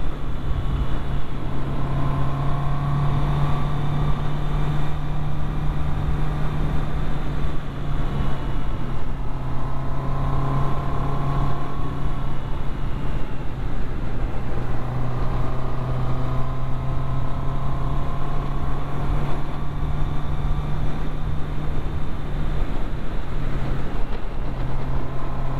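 Honda CB650R motorcycle engine holding a steady, loud drone on an Isle of Man road, with faint swells in pitch over the run and heavy wind rush throughout.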